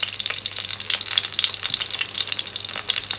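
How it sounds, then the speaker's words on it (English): An egg fries in a pan at home, a soft, steady crackle and sizzle with scattered small pops, faint and close, with no talking. "So while the egg is frying"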